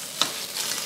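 Onion fries in a pan: a brief, close sizzle with a sharp scrape of stirring near the start, then steady crackling for under a second.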